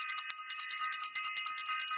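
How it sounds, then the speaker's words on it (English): A small hand bell rung rapidly and repeatedly for two seconds, bright clear metallic rings in quick succession, close and alone. "Let me go ahead and ring the bell"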